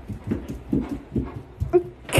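A dog descends a staircase, its paws making a series of soft, uneven thumps and taps at close range, with a little panting and a faint whimper and no talking.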